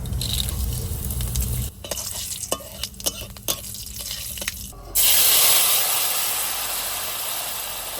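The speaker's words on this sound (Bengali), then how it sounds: "ফোড়ন দেব সর্ষের তেল জিরে" Cumin seeds hit hot mustard oil in a pan, bursting into a loud, bright sizzle after a few scattered clicks and stirring taps, then the frying hiss settles into a steady crackle.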